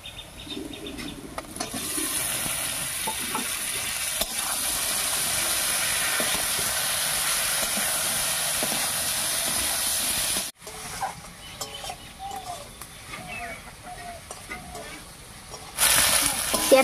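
Sliced capsicum, tomato and green chili fry in a pan for a potato dish, giving a steady bright sizzle that holds for about ten seconds, dips briefly, then continues more softly under a speaking voice before flaring up again.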